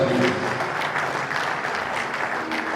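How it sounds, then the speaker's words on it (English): Audience applause fills a hall at a Bayelsa State 20th anniversary ceremony, a steady dense wash of many hands clapping loudly throughout, with no break. "So clap for our elders."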